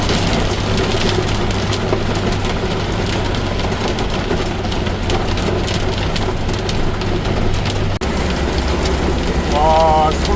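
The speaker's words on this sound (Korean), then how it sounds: "와, 소나기가" A heavy summer shower with hail hammers a truck on a mountain road in Pyeongchang, making a dense, loud roar that stays steady for seconds. A brief knock comes partway through, and a short electronic tone sounds near the end.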